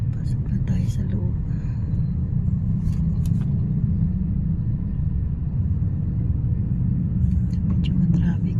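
Heavy road traffic near a busy market, a steady low rumble of engines under near-constant nearby talk, with brief higher clatters breaking through now and then.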